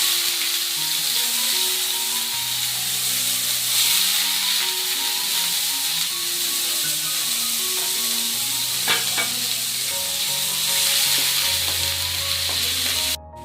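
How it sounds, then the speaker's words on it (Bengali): Small chopped onions fry in hot oil over high flame, with a steady close sizzle and hiss. Occasional stirring sounds and a faint background melody run beneath it. Nobody speaks. "তো আমাদের পেঁয়াজ কিন্তু ভাজা হয়ে গেছে"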